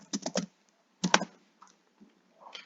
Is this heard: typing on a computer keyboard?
yes